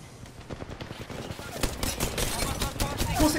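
Gunfire in Apex Legends, sharp rapid shots in quick bursts, close and loud, mixed with game effects and a voice talking over it.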